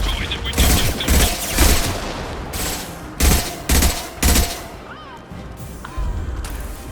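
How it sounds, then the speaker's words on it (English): Heavy impact-shot gunfire in Mass Effect combat, several loud, punchy blasts in separate bursts, with crashing impacts between them and battle noise continuing after. "Firing an impact shot"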